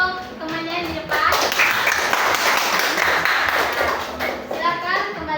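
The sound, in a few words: classroom applause for classmates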